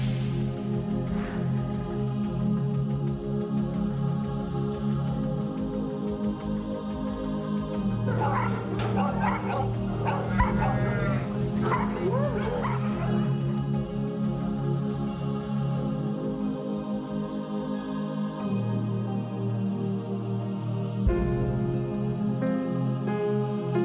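Hunting dogs bark, yip and whimper, with the busiest burst of overlapping cries in the middle, over a steady low background hum.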